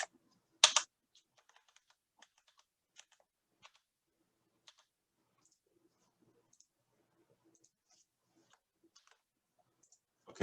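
Typing on a computer keyboard in a quiet room, a few sharper key taps at the start and end with sparse, faint keystrokes scattered in between.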